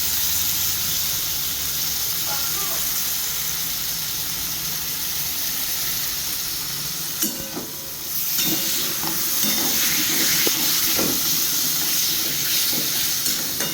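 Sour yogurt is stirred into a sizzling potato curry in a pan: loud, continuous frying hiss throughout, with scraping strokes of a spoon becoming more frequent in the second half.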